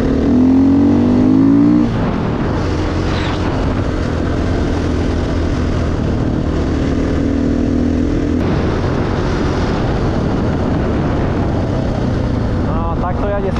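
A 2014 KTM EXC 450 enduro motorcycle at full throttle near top speed, its engine a loud, steady high-revving drone held without a break, with a shift in pitch early on and wind rush.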